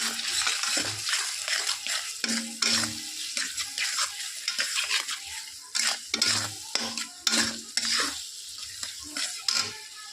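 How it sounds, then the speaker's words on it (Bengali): Ground chilli, coriander and cumin frying in oil for a small-potato curry, with steady close stirring scrapes and spoon knocks over a constant bubbling sizzle. "আমার মশলা ভালো করে কষানো হয়ে গেছে, মশলা থেকে ভালো করে দেখো তেল ছেড়ে গেছে।"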